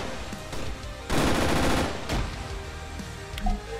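Machine gun bursts ring out in the Arma 3 military video game: one sustained volley lasting under a second, then a shorter burst, set against quieter background battle noise.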